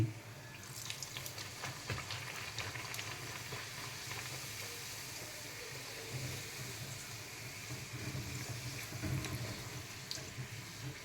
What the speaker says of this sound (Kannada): ಎಣ್ಣೆ ಕಾದಿದೆ. ನಮ್ಮ ಪೂರಿನ ಹಾಕೋಣ ಇದರಲ್ಲಿ.